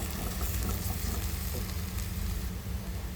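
Fried onion samosa filling sizzles steadily in a pan as chili powder, coriander powder and garam masala are stirred in, a dense close crackle with no pauses.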